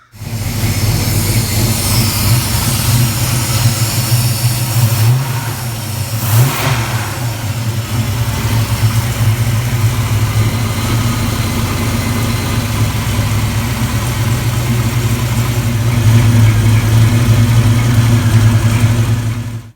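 Fuel-injected engine of a 1967-72 Chevy truck idling at about 800 RPM, loud and close: a steady, even low rumble with one brief blip near the middle.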